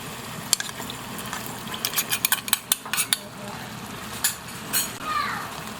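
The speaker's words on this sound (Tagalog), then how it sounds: "So haluin po natin agad para hindi mamuo." Spoon clinks and scrapes against a pan as slurry is stirred into a ground beef dish, a series of sharp metallic taps and clatters over a low simmering background.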